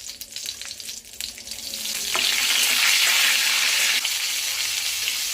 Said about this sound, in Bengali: আমি ফোড়নে দিয়ে দিচ্ছি জিরে আর একটা শুকনো লঙ্কা।